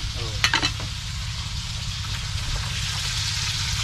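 Mung beans (balatong) fry and get stirred in a pan on a farm, a dense steady sizzle with scraping stir strokes near the start, close and loud, no one talking.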